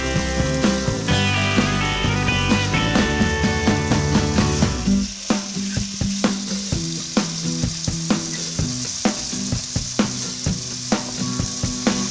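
Stuffed kantola (spiny gourd) sizzles and crackles in a hot pan, with occasional stirring clatter and sharp pops throughout, no voices.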